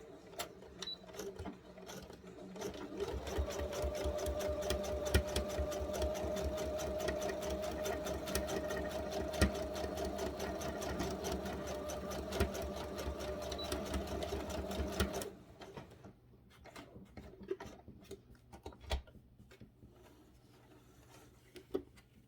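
A sewing machine runs steadily for about twelve seconds, stitching fabric for a machine cover, then stops, leaving a few faint clicks and handling sounds.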